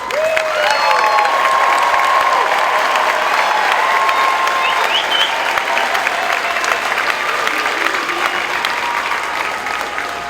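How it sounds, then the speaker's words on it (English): At a retreat and coin ceremony for the 433rd Training Squadron, a large crowd applauds the graduating airmen, with steady, loud clapping and some cheering under a few faint voices. "Let's give them a round of applause."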